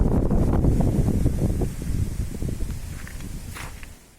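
Strong gusting wind in the town of Poti, a heavy rumbling roar that buffets loudly and then slowly eases away.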